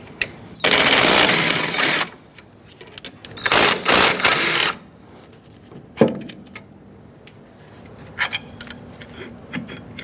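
A power tool with a 14mm socket spins off the brake caliper bracket bolts on a 2010-2013 Kia Soul rear hub, in two loud rattling bursts followed by quieter clicks and taps.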